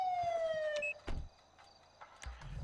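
A police car siren from the Luxart Vehicle Control mod in GTA V wails with a falling tone that cuts off after about a second, followed by clunks like a car door and quieter mechanical noises.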